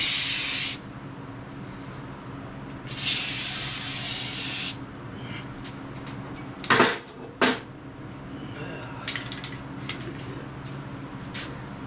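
Bed liner coating sprayed into an MGB trunk in bursts of loud hissing spray, two longer blasts, then short sharp spurts and a few knocks and clatters between quieter stretches.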